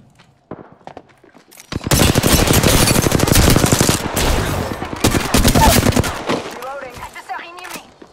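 Heavy automatic gunfire rattles in long, dense bursts from the Mirage video game, starting after a few faint shots and continuing loud and close for several seconds before tapering into quieter scattered sounds.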